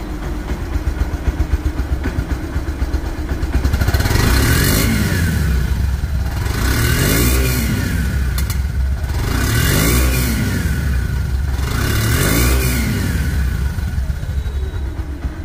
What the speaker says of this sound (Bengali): তো এখন গাড়িটির সাউন্ডটি শুনুন, সাউন্ড শুনলে বুঝতে পারবেন যে ইঞ্জিন কোয়ালিটি কেমন আছে।